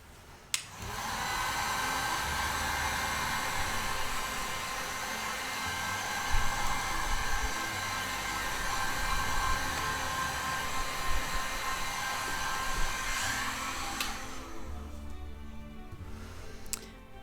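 A hair dryer blowing over a paper background sprayed with Inktense, a steady loud whooshing hum that switches on abruptly, runs continuously for about thirteen seconds and then cuts off.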